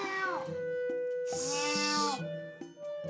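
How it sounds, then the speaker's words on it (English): A cat meows repeatedly in long, drawn-out, wailing cries, loud and close, one call after another with barely a pause. "I need something to drown out this stupid cat"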